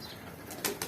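Red chapka pigeons at a rooftop loft give a faint background hush, then two short bursts of wing flapping near the end, quick and close.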